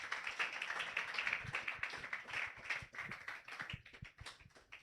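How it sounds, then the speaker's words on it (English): Soft, scattered clapping from a small audience after a capstone personal presentation, heard as quick uneven taps at a low level. "Can we clap once again?"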